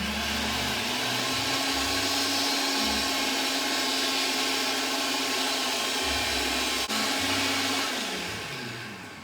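A countertop blender on a low setting whirs continuously, whipping egg yolks for hollandaise, a loud steady motor drone with a brief click near the end before the pitch winds down slightly.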